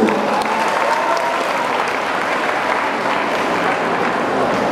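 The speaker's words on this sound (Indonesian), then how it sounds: "Tepuk tangan untuk komunikasi." An audience at a mayoral commemoration of Dr. I.L. Nommensen in Pematangsiantar applauds in a dense, loud, steady wash of clapping that fills the whole stretch without pause.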